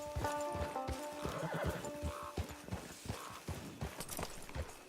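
A horse in the Red Dead Online video game whinnies, then clip-clops along at a steady trot with repeated hoofbeats, fairly close and clear, with faint game ambience and no talk.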